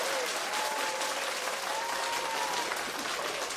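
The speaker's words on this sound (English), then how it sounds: "Round of applause for the building, man." Continuous audience applause and crowd noise at a boxing-related gathering, dense and steady, with a voice briefly rising above the clapping.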